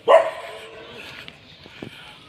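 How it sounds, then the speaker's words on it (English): A dog barks once, sharp and fairly close, on a walk near a pagoda in Siem Reap, Cambodia, followed by quieter background noise and small scattered sounds. "He's gonna bark at me the whole time"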